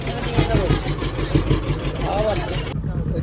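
A motorboat engine drones steadily on the water, close and fairly loud, with a few faint voices over it. The sound cuts off abruptly near the end.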